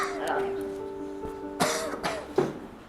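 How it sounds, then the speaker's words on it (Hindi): A person with a persistent cough lets out several harsh coughs in quick succession, close and loud, after a quiet raspy breath. "मेरी खांसी नहीं रुक रही"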